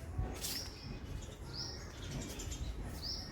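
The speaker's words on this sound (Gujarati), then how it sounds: "ચક્કીબેન બોલી રહ્યા છે." Sparrows chirp outdoors in breezy weather, short high tweets recurring every second or so, moderately distant over a steady windy background hiss.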